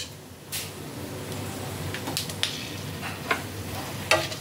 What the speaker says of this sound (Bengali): ফোড়নটাকে কয়েক সেকেন্ড তেলের মধ্যে একটু নাড়াচাড়া করব।